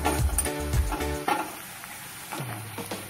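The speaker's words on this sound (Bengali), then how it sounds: "পেঁয়াজটা সামান্য ভাজা হয়ে এসছে" Onion frying in a pan on reduced heat, with soft sizzling under a few metallic scrapes and clanks as it is stirred, then settling to a quieter sizzle.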